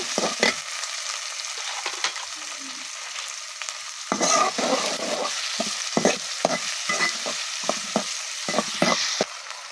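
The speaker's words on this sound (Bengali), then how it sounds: "পেঁয়াজটা দিয়ে দিচ্ছি দেওয়ার জন্য কুচিটা লাল করে নেব" Chopped onion frying in oil for a beef curry, a constant hiss of sizzling broken by bursts of scraping as a spatula stirs the pan, denser stirring in the second half.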